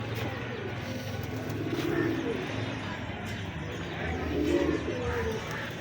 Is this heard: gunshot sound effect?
no